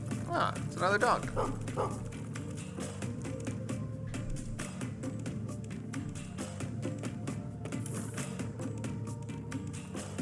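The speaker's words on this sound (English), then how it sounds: "it's another dog" Dog barking in the video game Gestalt: Steam & Cinder, a few short yips near the start under continuous game music and someone talking.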